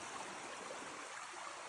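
A flowing stream beside a campsite on the Greenbrier river makes a steady, dense rush of water that stays even throughout, with no voices.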